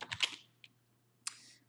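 Key presses on a computer keyboard while a command is entered in a Linux shell: a quick flurry of clicks, then a single tap and a final keystroke after a pause, close and clear with no talking.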